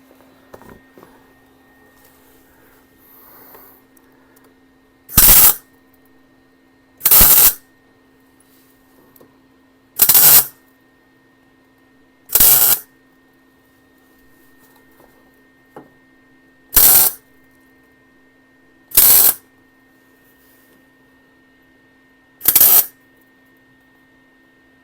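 Tack welds joining floor pan halves on a 1971 Nova, heard as seven short, loud bursts of crackling arc spaced a few seconds apart, with quiet hum between them.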